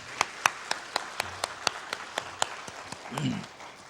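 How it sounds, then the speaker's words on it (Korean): A church congregation claps during a year-end Sunday worship service, a series of sharp, evenly spaced claps in steady rhythm, followed at the end by a brief murmur of voices. "우리 모두에게 감사와 격려의 박수 부탁드리겠습니다"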